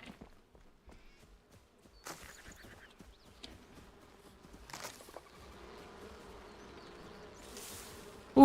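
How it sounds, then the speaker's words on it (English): Angry bees in the video game Enshrouded buzz as a low, steady insect drone that swells gradually, mixed with footsteps and scattered game sounds and a few sharper bursts. "Ooh, angry bees."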